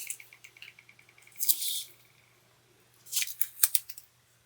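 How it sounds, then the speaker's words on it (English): Non-stick scissors snip through paper during card making, two short bursts of crisp cutting, one brief and one a quick double stroke, near and fairly quiet over a faint steady hum. "using my non-stick scissors"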